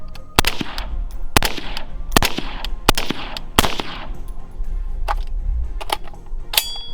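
Carbine fitted with a KAK A5 H4 buffer, tube and long spring firing outdoors, a quick string of loud sharp shots with ringing tails, several close together then a few spaced ones, no voices.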